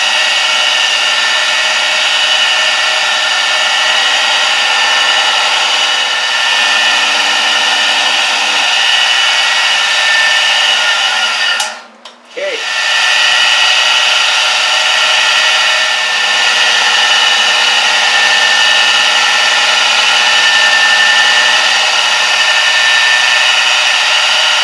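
A milling machine drives a 1/4 inch roughing end mill into metal, giving a loud, steady, continuous cutting whine that holds for the whole stretch, broken once by a brief dip midway, with no voices.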